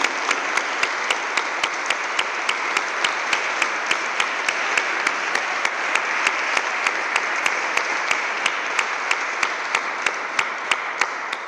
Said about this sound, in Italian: Iniziamo con un bel applauso di augurio al Vescovo Enrico per i suoi 3 anni di ordinazione episcopale.